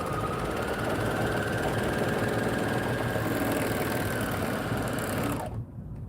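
A serger sews a fabric seam with a fast, steady mechanical whir that runs without a break for about five seconds, then stops abruptly.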